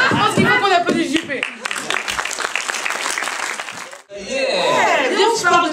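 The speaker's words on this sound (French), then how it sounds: "Je pense qu'il faut qu'on applaudisse JP." Studio audience on a French daytime TV show bursts into loud, sustained applause with cheering, fading briefly near the end before a voice and the crowd noise pick up again.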